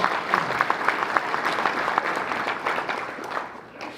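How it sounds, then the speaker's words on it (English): An audience applauds at a live commercial real estate Q&A show, a steady burst of clapping from a modest crowd that holds for a few seconds and then tapers off near the end. "ladies and gentlemen, give a round of applause."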